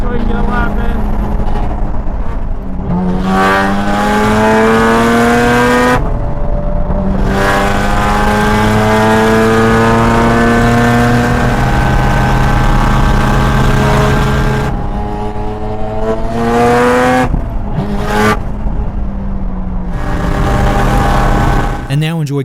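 A Mazda RX7 lapping the VIR road course, its engine loud and close throughout with repeated rising revs through the gears, brief lifts and drops between shifts, and steady drive over the whole run.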